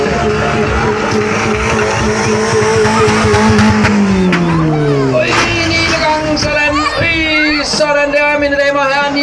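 At a monster truck and stunt show, a stunt car's engine roars and its tires squeal as it rolls over, loud and steady, while an announcer talks over a public-address system.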